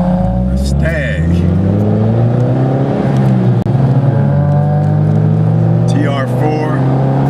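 A Triumph Stag sports car on a club spring drive passes close by with a loud, steady engine drone that rises and falls, accompanied by whirring and other running cars.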